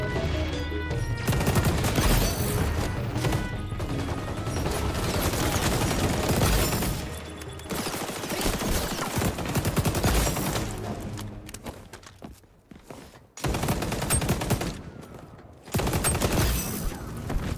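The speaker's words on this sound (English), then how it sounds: "Let's quickly look at the recoil pattern on this gun." Rapid automatic fire from an ACR rifle in the shooter game XDefiant, loud sustained bursts of gunfire with brief pauses between volleys, no talking.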